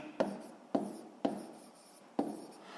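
Pen writing by hand on paper while working a sixth-grade math exercise on a rectangular box's base area, four distinct stroke bursts with short scratchy tails, close and alone.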